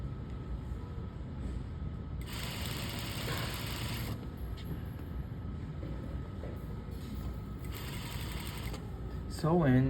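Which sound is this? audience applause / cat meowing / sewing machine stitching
sewing machine stitching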